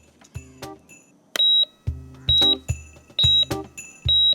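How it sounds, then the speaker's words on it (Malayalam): An electronic detector device emits a sharp, loud series of beeps, short tones repeating in an uneven rhythm with brief clicks and pauses between them, heard up close indoors. "ഈ നെഗറ്റീവ് എനർജി അടുത്തുണ്ടെങ്കിൽ ഇത് ബീപ് ബീപ് ബീപ്പ് അങ്ങ് സൗണ്ട് കേൾക്കും"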